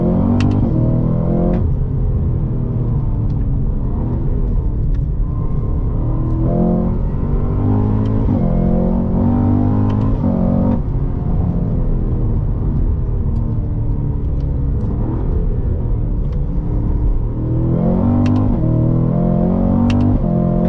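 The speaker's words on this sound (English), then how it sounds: "God, that V8 sounds good" Cadillac CT5-V Blackwing V8 held in manual paddle-shift mode, loud and close, revving repeatedly with rising and falling harmonic sweeps as the engine climbs and drops through the revs, deep rumble continuous throughout.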